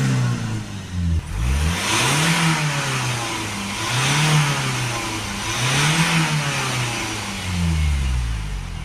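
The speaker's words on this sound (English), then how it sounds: "Okay, now we're going to start the car up. And we're going to give it a few high revs" A car engine starts and is revved high several times to heat the exhaust, rising and falling in repeated loud vroom surges over a steady idle.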